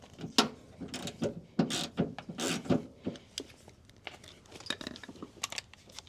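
Repeated clicking, ratcheting turns of a hand tool cracking loose T15 Torx screws on a BMW F36 rear diffuser, a series of close, short mechanical crunches and clicks with no speech.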